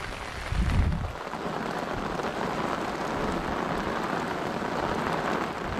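Steady rain pours down outdoors during a Thai fishing trip, a dense even hiss of drops on surfaces with a brief low rumble near the start, continuous and fairly loud throughout.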